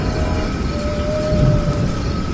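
A steady rush of heavy rain during a night thunderstorm, used as a sound effect in a Bengali audio drama, holds a constant dense roar with a low rumble swelling briefly near the middle, with no voices over it.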